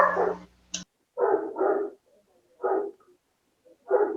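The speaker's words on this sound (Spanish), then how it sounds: "Ahora comenzó la competencia de los perros de acá, de mis vecinos." Several neighbourhood dogs bark in separate bursts, mostly at mid distance and moderately loud, with short pauses between the barks and a brief stretch of someone talking at the start.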